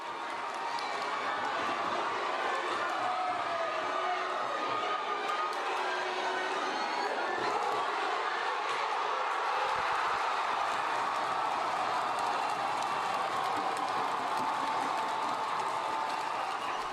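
Football crowd at a World Cup qualifier, a continuous broad roar of cheering and clapping fans held at an even level throughout, with a commentator talking over it.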